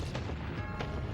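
Gunshot ability firing in the video game Brave Fencer Musashi, a couple of quick booming shots with low, thudding body, fairly quiet and heard alone without talk.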